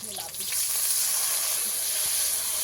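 Water poured into a hot pan of frying spices, tomato and ginger sets off a loud, steady sizzle and hiss that swells quickly and holds close up, with a voice speaking softly at the start.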